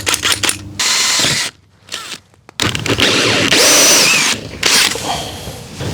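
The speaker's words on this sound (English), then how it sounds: "So I'm gonna use my hole saw once again." A hole saw drills through an exterior wall while an outdoor water spigot is being replaced, giving loud bursts of whirring and grinding separated by short pauses.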